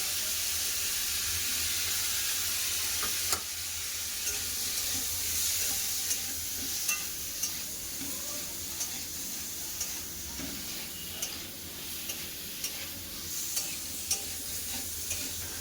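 Meat sautéing in oil with turmeric and salt, a soft continuous sizzle under periodic spoon clinks and scraping strokes against the pan.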